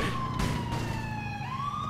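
An ambulance siren from the GTA game with the LCPDFR mod wails steadily and loud, its tone sliding up and down over a low engine rumble, with no talking.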